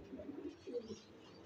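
Domestic pigeons coo softly in a few low, throaty bursts, faint and close in a quiet space.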